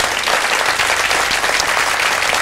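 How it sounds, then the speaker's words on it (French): Loud, dense applause from a television quiz-show studio audience, a thick, continuous wash of many clapping hands filling the whole moment without voices. "On l'applaudit bien fort."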